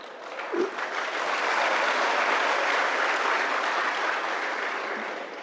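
A crowd of listeners at a Marathi motivational talk breaks into applause, a dense, sustained wash of clapping that swells after a brief start and holds steady throughout.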